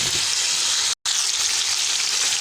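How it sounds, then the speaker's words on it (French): A sauce of African eggplants for lafri cooks in a pot, a loud steady bubbling sizzle broken by a brief cut of silence midway. "Je remue bien et je laisse cuire."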